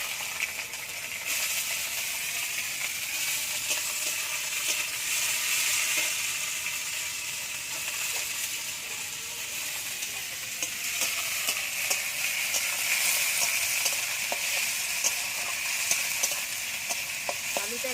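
Potatoes frying with water spinach in a pan, giving a steady loud sizzle with occasional stirring scrapes and clinks, continuous and close.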